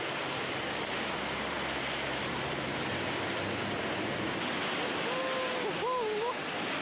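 Iguazu waterfall roars in a broad, dense, steady wash of rushing water, loud and unbroken throughout, with a brief voice-like tone rising near the end.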